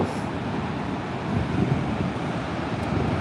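Steady broadband wind rushing across the microphone on a beach on the Oregon coast, a constant low roar with slight surges, no voices present.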